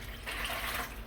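Water splashes and trickles steadily for about a second, a close pouring sound with a bright, hissing wash.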